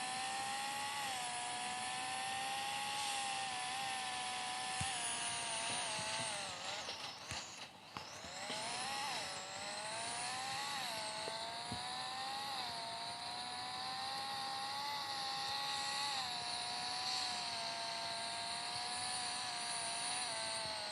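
Sustained engine roar from a car drifting in a racing video game, a steady high-pitched whine with rising and falling revs, a brief dip around the middle, loud and continuous with no talking.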